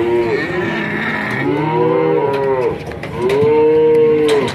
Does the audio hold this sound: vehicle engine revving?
no